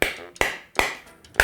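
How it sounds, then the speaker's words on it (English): A hammer strikes a hard cake decoration four times at an even pace, each hit a sharp, close, ringing tap that decays quickly. "The next step is to just hit it a lot with this hammer."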